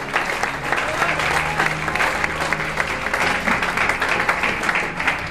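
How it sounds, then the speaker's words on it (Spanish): A church congregation breaks into loud, sustained applause during a Spanish-language Holy Communion service, dense clapping filling the room for several seconds with crowd noise mixed in. "Dale un aplauso fuerte al Señor."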